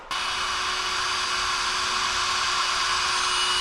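A power drill bores a hole while a bracket is made for a custom lawn sprayer shield. It starts abruptly and then holds a steady, close, high motor whine with no talk.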